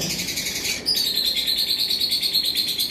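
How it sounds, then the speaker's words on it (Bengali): Two-year-old yellow-sided conure parrots give steady, shrill chirping calls close by, a dense repeated chatter that grows louder and more continuous after the first second, with no voices. "এখানে দুই বছর বয়সী ইয়েলো সাইডেড কুনুর রয়েছে"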